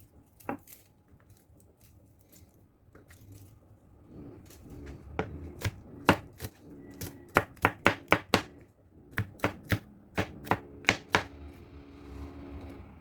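Garlic cloves minced with a knife on a board, sparse taps at first building into quick rhythmic bursts of sharp chops, close and clear with no talking.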